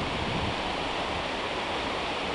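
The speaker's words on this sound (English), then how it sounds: "Double waterfall!" Steady roar of a double waterfall beside a lake, a dense, continuous rushing wash of falling water, loud and close with no other sounds.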